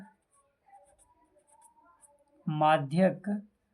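Chalk or marker writing on a board during a maths lesson on finding the median, heard as faint scratchy strokes at moderate distance before a teacher speaks over it.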